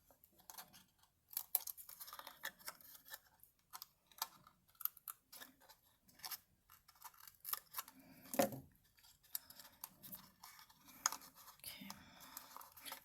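Soft scissors snip cardboard-like material while a barn ornament is being made, giving faint, irregular crisp cuts and rustles close by with no talking.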